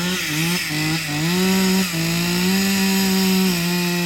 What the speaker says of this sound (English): And now let's hope to God his chainsaw's cranked.